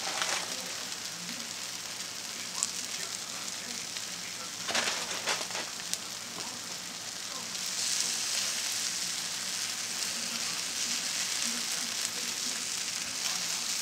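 A grilled cheese sandwich frying in a non-stick pan, a steady close sizzle and crackle that swells louder in the second half, with a few faint clinks and no talking.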